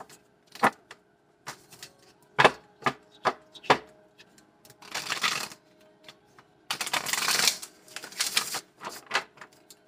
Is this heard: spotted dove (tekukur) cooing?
no